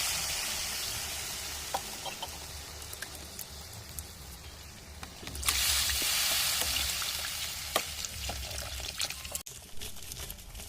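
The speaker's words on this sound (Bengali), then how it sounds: "আমি দিয়ে দিচ্ছি এর মধ্যে জল" Water splashes into a pan of frying pangas fish curry, a steady close sizzle swelling into a louder hissing rush midway, then settling back with scattered pops.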